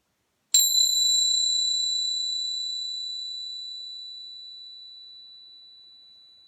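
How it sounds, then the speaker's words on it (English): A single ceremonial bell struck once at a solstice ceremony, ringing out with a clear, pure tone that decays slowly over several seconds in an otherwise silent room. "I'm going to start the ceremony by just ringing my bells"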